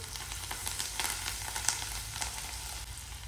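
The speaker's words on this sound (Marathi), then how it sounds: "मसाल्याला चांगलं परतून घेऊया" Homemade masala with red chilli and coriander powder sautéing in a pan for chicken gravy, a quiet, even sizzle with faint stir scrapes under a steady low hum, nearby and without voices.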